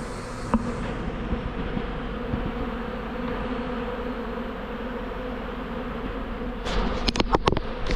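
Honeybees from a swarm fanning at the entrance of a nucleus hive, a close, continuous droning buzz with a few sharp knocks and rustles near the end.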